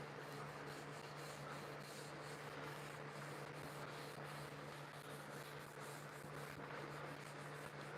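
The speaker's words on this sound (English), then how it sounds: "we're just going to take our legs and rub them down" Steady, close friction as hands rub down wooden legs finished with pure tung oil, a continuous soft scrubbing hiss with faint repeated strokes and no talking.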